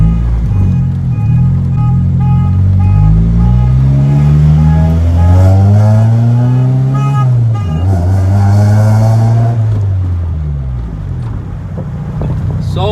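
A right-hand-drive Honda Integra being tuned, its engine running loud and close, the pitch rising and falling through slow revs, dipping briefly around the middle before settling back down.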